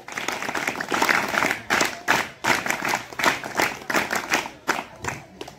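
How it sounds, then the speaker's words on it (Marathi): An audience at a school scout and guide camp in Katta, Malvan claps together in loud, continuous applause, swelling in repeated bursts for several seconds. "त्यांच्यासाठी आपण एकदा जोरदार टाळ्या वाजवायचे"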